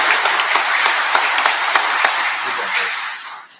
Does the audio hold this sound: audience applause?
yes